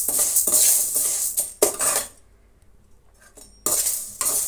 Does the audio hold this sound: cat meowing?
no